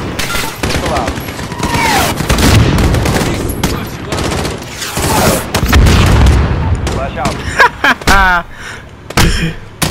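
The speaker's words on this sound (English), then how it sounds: "Keep using the mortar, bro." Mortar blasts and gunfire in Call of Duty Modern Warfare pile up as loud, repeated booms and rattling shots in a dense, chaotic battle mix, with some tonal game effects between them.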